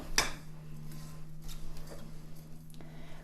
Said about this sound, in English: just going in here with the back of my spoon and breaking up some of the clumps and giving everything a good stir